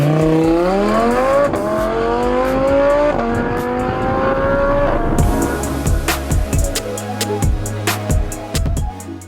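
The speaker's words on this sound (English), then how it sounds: "Now on the third one, V10 Spyder, Capristo exhaust, which is a little bit naughty" A purple Audi R8 V10 Spyder fitted with a Capristo exhaust, loud and close. Its engine climbs through several rising rev sweeps, then sharp crackling pops and bangs burst from the exhaust as it lifts off the throttle.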